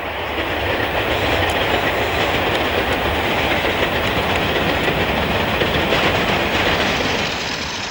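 Class 45 diesel locomotive 45022 passes Tramway Crossing on a Birmingham-bound train, a loud steady roar of engine and rolling wagons with clickety-clack of wheels on rail joints, close and continuous throughout.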